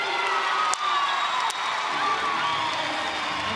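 Netball crowd roars after the final siren of a Collingwood Magpies win over the Lightning in Suncorp Super Netball, a dense, sustained wash of cheering and applause filling the arena with a couple of sharp whistles or shouts.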